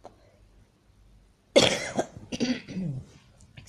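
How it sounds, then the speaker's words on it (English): After near silence, one sharp, close cough bursts out, followed by a few rough throaty sounds. "I have this terrible cough."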